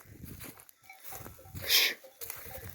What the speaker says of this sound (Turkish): Koca koyun